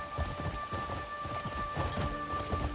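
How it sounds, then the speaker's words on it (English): Steady rain pours down in the open-world video game Crimson Desert, a dense continuous hiss with a heavy, thundery low rumble running throughout and no voices over it. "now it's raining"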